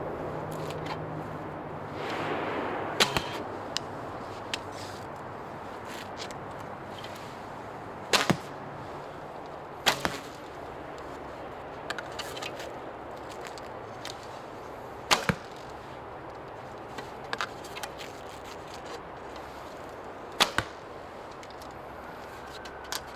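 Arrows loosed from an AF Archery Long Siyah bow at a 28-inch draw: about half a dozen sharp snaps of release and flight spaced several seconds apart, standing out clearly over a quiet outdoor background.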